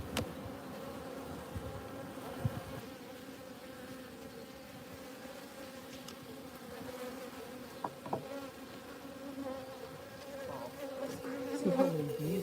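Honey bees buzzing in a dense, continuous swarm during a honey harvest, a steady layered drone close by with individual bees whirring past now and then.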